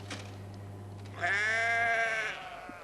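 A sheep gives a single loud, wavering bleat lasting about a second, close to the microphone, after a few quieter shuffling sounds; no one speaks.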